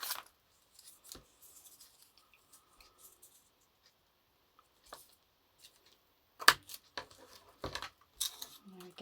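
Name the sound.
cutting paper for collaged postcard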